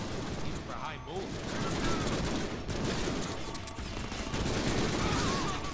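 Rapid bursts of gunfire fill a Deadpool video game battle, dense and continuous with sustained volleys across the whole stretch, mixed with game effects and voices talking over the shooting.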